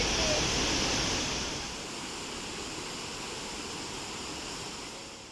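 A steady, broad rush of falling water at Tarsus Waterfall in Mersin, Turkey, fills the air, loud at first and then settling to a constant roar.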